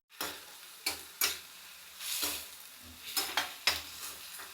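Onion paste frying in a pan and stirred with a ladle, with a soft steady sizzle broken by several sharp scrapes of the ladle against the metal at an uneven rhythm. The sound is close and alone, with no talk.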